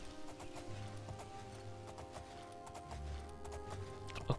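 A horse gallops in The Elder Scrolls IV: Oblivion, its hooves a faint, fairly rapid clip-clop under quiet game music and ambience.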